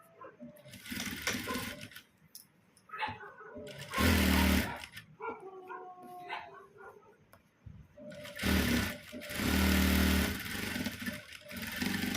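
Sewing machine running short bursts while stitching a straight joint on a blouse, with two louder stretches of motor whir separated by quieter handling sounds and background noise.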